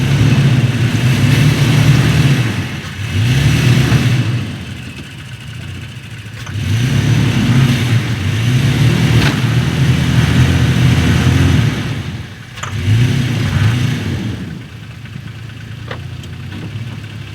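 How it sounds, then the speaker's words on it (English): A truck engine revs hard and repeatedly in surging bursts with short easing-off pauses between them while pulling out another stuck truck. The sound is close and loud, with occasional clanks. "We made some good steady progress getting the truck out from that angle."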